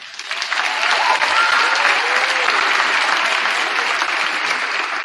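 Steady applause from a crowd at a high school fall athletic awards night, loud and sustained for several seconds without a break.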